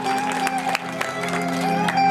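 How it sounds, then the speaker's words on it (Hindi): An audience claps loudly at a devotional religious gathering, a dense, steady patter of hands under sustained tonal music. "तो एक बार जोरदार ताली बजा दो आप अपने लिए"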